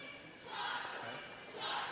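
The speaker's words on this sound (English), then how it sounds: "big cheer from the Scottish crowd that's in here" Large Scottish crowd cheering at a curling match, Scotland against Norway at the 2013 World Mixed Doubles Championship, a broad roar in an indoor arena that swells twice and sits at moderate distance.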